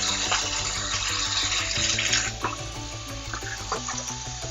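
Water is poured into a pan holding a ramen sofrito, a continuous splashing, bubbling flow at steady volume lasting several seconds, with a faint tonal hum underneath.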